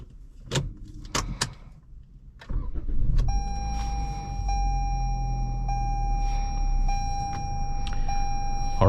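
A 2024 Toyota Camry SE Nightshade is started after a few sharp door and key clicks, then settles into a steady close idle with a continuous electronic chime tone ringing over the engine hum.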